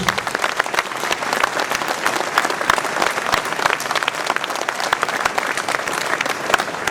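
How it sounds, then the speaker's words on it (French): Warm, sustained applause rises from a large audience at a mayor's New Year address in Ouistreham, many hands clapping densely at a steady pace with crisp individual claps audible in the mix. "Qu'ils en soient remerciés et chaleureusement applaudis."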